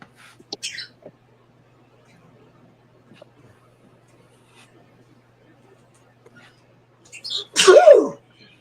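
A single sneeze, sharp and fairly loud, follows a quiet stretch with faint small noises and brief soft sounds at the start.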